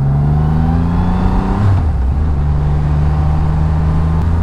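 A Triumph Rocket 3 motorcycle engine droning loudly through winding curves, steady throttle with a brief dip and pitch shift as it shifts, close-up from the rider's position with wind noise.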